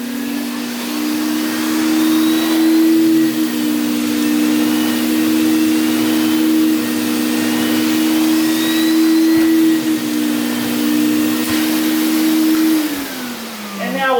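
An old vintage canister vacuum cleaner runs close and loud with a steady droning whine for most of the stretch, then winds down near the end.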